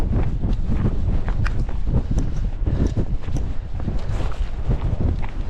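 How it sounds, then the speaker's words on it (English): Strong wind gusts batter the microphone on an exposed Yorkshire hillside above a valley, a continuous loud low rumble with occasional crunching steps and no clear talk. "it's windy."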